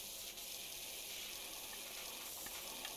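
Pressure washer spraying water at a van in the game Power Wash Simulator, a faint, steady hiss of spray running continuously without pause.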